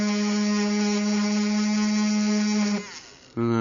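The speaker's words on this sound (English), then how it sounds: "I'm going to take my Dremel tool" A Dremel rotary tool spins with a steady high-pitched electric whine, erasing a highlight on a painting, then winds down briefly before starting up again.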